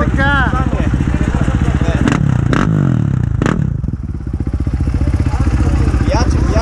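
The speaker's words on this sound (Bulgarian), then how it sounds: "Мъжки мотори." Enduro motorcycle engines in the standard class at a hard enduro race in Svoge, loud and close, with a steady throbbing idle and sharp revving bursts, clatter and scraping, while people talk nearby.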